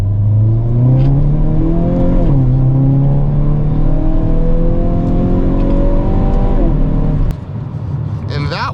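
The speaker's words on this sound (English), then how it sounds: "Listen to how snappy the upshifts are on this car." A 2022 Hyundai Kona N accelerates hard, engine pitch climbing then dropping sharply at several quick upshifts, loud and close, easing off near the end.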